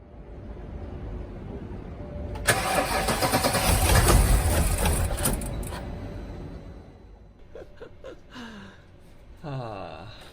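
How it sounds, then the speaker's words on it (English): A BMW X5 E70 engine cranks and catches after the ignition is turned, a loud broadband roar that swells and then settles, fitted with new Bosch ignition coils; a short voice and scattered clatter follow near the end. "let's turn the ignition on."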